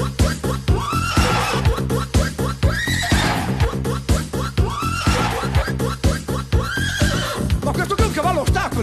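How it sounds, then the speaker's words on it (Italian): A horse whinnies repeatedly on a 1980s vinyl record, loud shrill neighs recurring over a steady rhythmic beat with clopping accents. "Tocca adesso il cavallo, The Horse."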